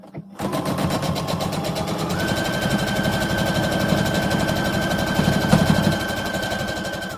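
Sewing machine runs steadily, stitching along a zipper, a fast, even mechanical chatter held close and loud for several seconds with no talking.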